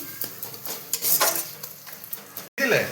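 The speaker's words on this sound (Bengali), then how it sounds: "ভালো করে মিক্সড করে ফুলকপি আলুগুলো আবার দিয়ে দেবো ভালো করে মশলাটা ভেজে নিই" Spice masala frying in a pot with cauliflower and potatoes, close scraping and clinking of a spoon against metal over a low sizzle, ending in a brief cutoff and a fresh burst of stirring.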